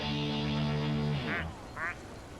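A plastic rubber duck quacks in Placid Plastic Duck Simulator, two short, bright squeaky quacks following a sustained tonal game sound that fades out before them.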